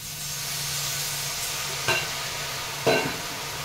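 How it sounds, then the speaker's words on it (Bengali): A little water is poured into a hot pan of cooking greens, giving a steady hissing sizzle throughout with two short louder bursts of spatter. "সামান্য জল দিয়ে দিচ্ছি।"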